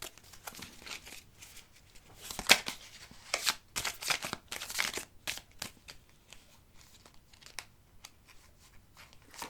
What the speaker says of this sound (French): j'ai plus de cartes qui tombent